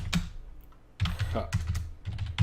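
Rapid, uneven typing on a computer keyboard in bursts of close key clatter, with a pause partway through and faint speech mixed in.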